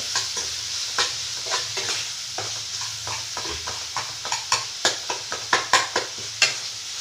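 Green chillies fry in a pan, a sizzling hiss under a run of sharp spatula scrapes and clacks that get quicker and louder toward the end, with no speech.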